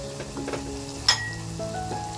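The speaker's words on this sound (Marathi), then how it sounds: "आता मसालासुद्धा बघा आपला छान फ्राय झालाय" Masala for a Bombay duck and potato curry fries in a pan, a soft steady sizzle with scattered crackles and one sharp pop, close but fairly quiet, with no speech.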